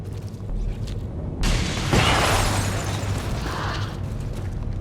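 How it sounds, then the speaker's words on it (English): Shredstorm cannon in XCOM 2 firing, then a loud explosive blast that swells into a long roaring, crackling burst, fading into rumbling debris. "this time with a very fitting use of the Shredstorm cannon"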